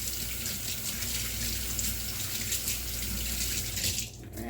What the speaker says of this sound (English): Rinse my hands real quick.